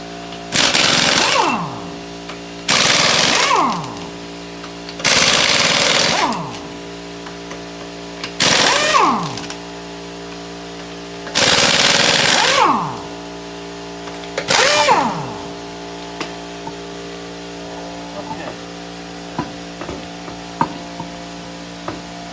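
Pneumatic air gun impact wrench spinning off wheel lug nuts on a Ford F-150 truck, six loud rattling bursts of one to two seconds each, then quieter tool handling and clicks in the shop.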